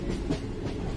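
A royal train rolls along its rails with a steady low rumble and faint rhythmic clatter of wheels, close and continuous through a brief stretch.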